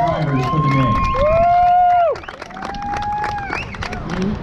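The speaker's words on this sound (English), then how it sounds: "So let's get a big, loud round of applause for these drivers for the day" A crowd at a Formula Drift event cheers for the drivers, with loud whoops and long rising and falling yells over a thinner layer of clapping, and a person talking near the end.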